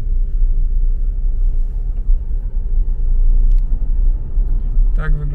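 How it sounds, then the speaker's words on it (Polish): A bus engine rumbles steadily in a small desert town in Colombia, a deep, continuous low drone close by, with a brief voice near the end. "Tak wygląda autobus."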